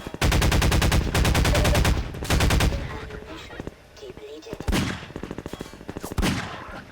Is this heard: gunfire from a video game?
yes